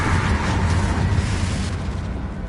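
Blasting spells such as Bombarda and Confringo going off in the Hogwarts Legacy video game, a dense, roaring rumble of explosions that stays loud and continuous throughout.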